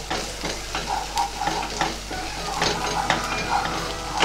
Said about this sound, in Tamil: வதக்கிட்டு நம்ம தக்காளி சேர்த்து தக்காளியும் நல்லா வதக்கணும்.